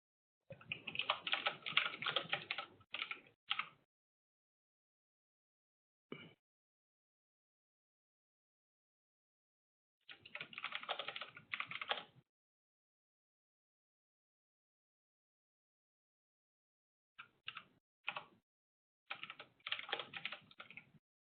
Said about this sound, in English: and even when I'm typing, sometimes things can go awry